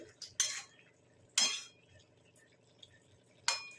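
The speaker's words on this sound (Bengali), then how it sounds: "ঢাকাটা খুলি, এই দেখুন জল শুকিয়ে গেছে" The metal lid of a cooking pot holding potato curry is handled and lifted off, giving three sharp, bright clinks spaced over a few seconds against a faint, quiet background.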